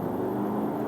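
Porsche Cayenne S V8 engine in sport mode under hard acceleration, a steady loud low drone heard from inside the cabin with no pauses.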